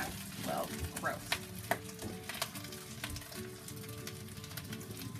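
Fried rice being broken up and stirred in oil on a boat's stove: a soft sizzle with intermittent spatula scrapes and taps, fairly quiet and close.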